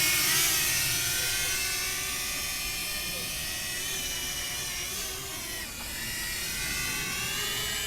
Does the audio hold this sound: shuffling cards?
no